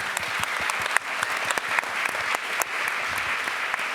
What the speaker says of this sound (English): A big hand of applause for